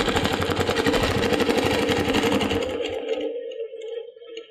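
A sewing machine stitching fabric for a quilt block, a fast, even mechanical whir of needle strokes close up that runs steadily and then slows and stops near the end.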